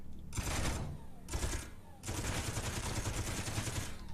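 Weapon fire in the video game Space Engineers, a rapid automatic burst, a brief pause, another short burst, then sustained continuous firing, loud and close.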